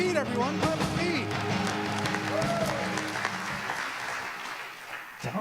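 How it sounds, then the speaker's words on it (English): An audience at a Comedy for Cancer benefit show claps for comedian Pete in a steady wash of applause. A host's voice carries over it, and the clapping thins toward the end. "Keep it up for Pete, everyone. Clap for Pete."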